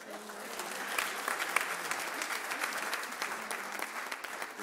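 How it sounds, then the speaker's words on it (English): A church congregation gives a hand clap, a sustained and fairly loud crowd applause with steady dense claps, voices faintly mixed underneath. "Give Ricky another hand clap."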